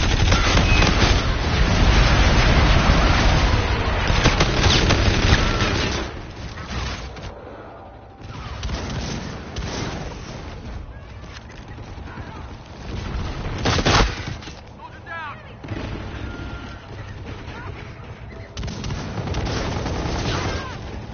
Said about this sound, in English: Enemy bombardment incoming